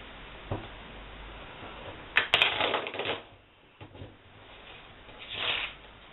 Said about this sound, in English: Bad shuffle, but I'm gonna do it again.